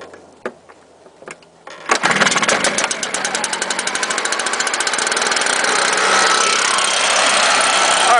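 A STIHL chainsaw fires up from a cold start after a few faint pulls, then its two-stroke engine runs loud and close at a steady, buzzing high idle.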